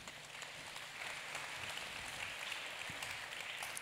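Quiet, steady applause from an audience at a meditation event, a soft continuous patter of clapping heard from a distance with no voices over it.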